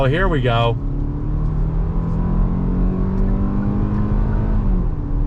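A 2022 Hyundai Tucson compact SUV accelerates on throttle, its engine note rising steadily as revs climb and then settling, a smooth close drone after a brief spoken phrase at the start.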